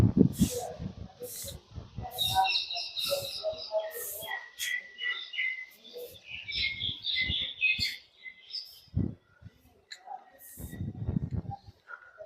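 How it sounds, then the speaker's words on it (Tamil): Birds chirp and tweet in bursts against a quiet outdoor background, with occasional low rumbles and a brief murmur of voices. "அந்த பறவைகளோட சத்தத்தை பாருங்க."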